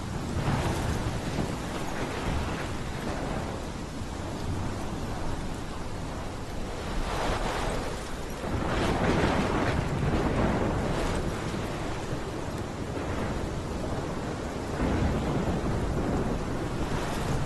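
A storm roars in the video game Life is Strange, with heavy continuous rumbling thunder, crashing waves and rain forming a loud, unbroken wash of noise throughout.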